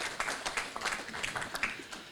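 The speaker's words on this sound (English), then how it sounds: "please once again, let's give us a round of applause" An audience at a state function for a report launch breaks into applause, a faint, steady patter of many hands clapping at a distance, with no talking over it.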